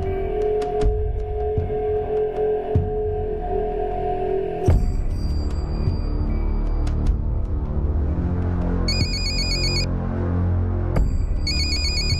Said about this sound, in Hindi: जावेद का फ़ोन है